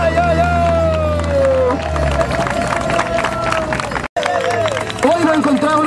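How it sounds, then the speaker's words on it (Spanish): Crowd at a student vigil in support of the Mapuche people cheering and clapping, loud and busy, with voices shouting and chanting over the noise and a brief dropout near the end. "¡Un aplauso!"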